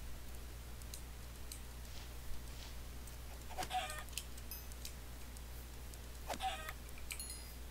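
Minecraft chickens give two faint, short clucking calls about three seconds apart in the survival game, alone over a low steady hum with scattered light ticks.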